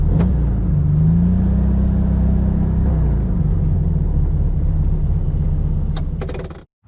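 A 1964 Volkswagen Beetle with a 1600 engine drives along, a steady close air-cooled engine drone and road rumble that rises briefly in pitch, holds level, then quickly fades toward the end after a couple of clicks.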